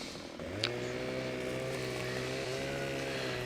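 A chainsaw cuts a tree in Farming Simulator 17 logging, a loud, steady motor drone holding at a constant pitch after a quick rev-up, with no voices.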